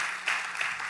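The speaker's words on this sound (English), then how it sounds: "the applause is for them" Brief, fairly faint applause from a conference audience at a Miami summit, a short burst of mixed clapping lasting under a second.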